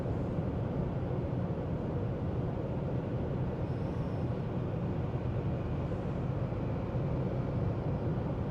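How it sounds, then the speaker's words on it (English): Steady broadband wind and road roar fills the cabin of a Lexus at highway speed, a constant dense rush with no talk, the engine sitting low beneath it. "you don't really hear it over the wind noise"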